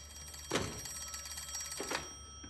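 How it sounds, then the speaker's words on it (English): An old-fashioned telephone bell rings in bursts, a loud ring followed by a second shorter one, fairly near in a quiet room. "You should answer the phone, Mr. Shelby."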